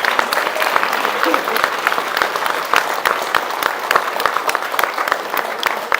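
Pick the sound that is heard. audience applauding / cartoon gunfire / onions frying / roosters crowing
audience applauding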